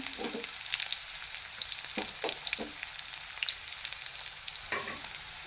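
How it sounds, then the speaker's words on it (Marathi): Curry leaves sizzle in hot oil in a pan for a bottle gourd dish: a steady bright frying hiss with sharp crackles and pops scattered throughout, close and fairly loud, with no voices. "गॅस थोडा बारीक करायचा कढीपत्त्याची पाने टाकते"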